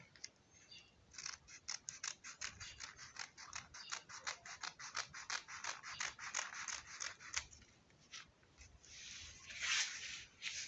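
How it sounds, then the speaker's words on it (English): Scissors snip through gown fabric at the front and back neckline of an A-line gown, a fast run of crisp, close cuts that pauses briefly and then continues with slower rubbing snips. "So now I will cut both my front neck and back neck together."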